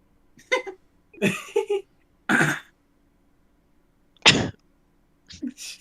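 A few short, sharp bursts from a throat, spaced irregularly with silence between, close and fairly loud; could be coughs or throat clearing, no words spoken.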